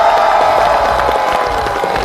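An audience at a stand-up comedy show claps and cheers, a dense, steady, fairly loud wash of applause with no break.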